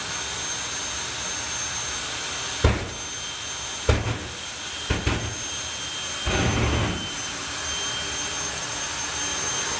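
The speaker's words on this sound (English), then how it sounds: "That's when the jet pulses hit the tower." At a doorslammer drag race, a jet dragster engine roars loudly and continuously, broken by several sharp, thumping pulse bursts, the last a longer surge.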